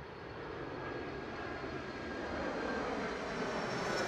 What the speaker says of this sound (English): Ooh, we got a plane coming.